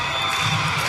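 Large baseball stadium crowd of about 22,000 making noise during a Houston at San Diego game, a brief, dense wash of loud cheering and crowd roar.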